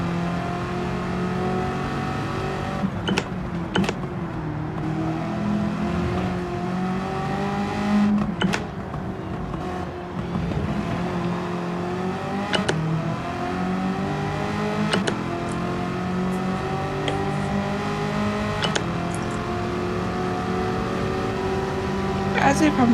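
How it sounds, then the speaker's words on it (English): A supercharged car engine in Gran Turismo 7 hums and revs up and down with rising and falling pitch, loud and close, over a continuous drone with a few sharp clicks. "That supercharger sounds noisy."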